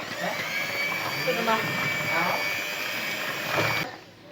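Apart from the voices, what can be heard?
blender mixing cake batter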